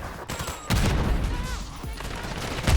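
Rapid bursts of automatic gunfire crackle through a Warzone firefight, with a sharp volley near the start and ongoing shots layered with game ambience.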